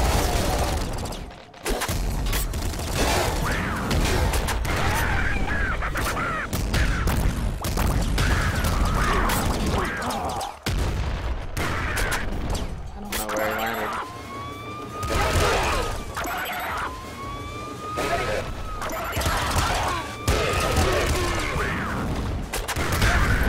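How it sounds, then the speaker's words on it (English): A triple machine gun in the video game Nuclear Throne fires in dense, continuous streams, layered with chaotic game effects, rising synth tones and explosions throughout. "Triple machine gun, so much fun!"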